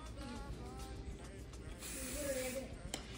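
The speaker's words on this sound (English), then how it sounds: "you're gonna go ahead and spray it" Hairspray hisses onto a curled pink wig in a close, steady burst lasting about a second, against quiet room tone.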